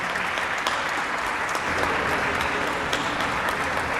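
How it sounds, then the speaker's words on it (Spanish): Audience applause at a book presentation honoring Guillermo Giambelluca, a retired judge, with a steady, dense roomful of clapping lasting throughout, loud and continuous with no voices over it. "Propongo un aplauso para Guillermo Gianbeluca."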